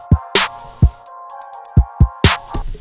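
A beat intro plays back in Studio One without its 808, crisp close drum hits and snare cracks in an uneven rhythm over a sustained synth chord, with no voices.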